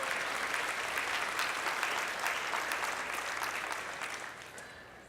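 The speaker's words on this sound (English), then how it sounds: "I think they deserve some appreciation and a round of applause." Broad, steady applause from a large crowd at a college career and technical education commencement, sustained for several seconds before tapering slightly at the end, with no talk over it.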